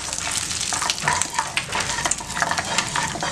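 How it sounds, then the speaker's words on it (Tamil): Bay leaf, cloves, cinnamon, cardamom and cashews fry in hot oil for paneer butter masala, giving a steady close sizzle with light stirring scrapes throughout. "இப்போ இது எல்லாத்தையுமே நல்லா இந்த மாதிரி பொரிச்சுக்கலாம்"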